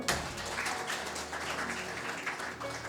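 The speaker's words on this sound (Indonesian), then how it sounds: "Tepuk tangan buat Tuhan." A church congregation claps for God during a Pentecostal-style sermon, a loud, steady wash of many hands that runs for a few seconds with no speech.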